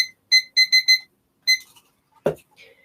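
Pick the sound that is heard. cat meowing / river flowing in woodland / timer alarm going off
timer alarm going off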